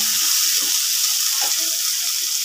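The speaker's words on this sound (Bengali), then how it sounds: "প্রথমে পেঁয়াজগুলো ভেজে নিচ্ছি" Onions frying in a pan for fish bhuna: a soft, close, even sizzle with a couple of faint stirring scrapes and no voices.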